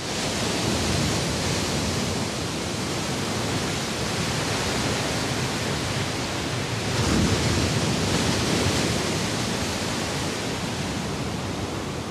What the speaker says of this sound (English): On Oahu, the waves are a land unto their own.